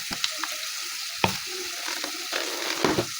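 Masala with a little oil and turmeric powder fries for prawns sukka, a soft steady sizzle with occasional spatula scrapes and taps, close by and without speech.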